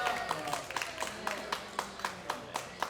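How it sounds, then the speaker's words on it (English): A small audience claps in a steady rhythm, each clap sharp and close, with faint voices in the background and no clear cheering. "Let's cheer them on, you guys."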